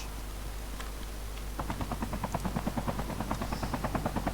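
A helicopter in the mobile shooter Call of Duty Mobile drones close and steady, its rotor chop rising into a rapid, even pulsing beat after a moment and continuing to the end, with no talk over it.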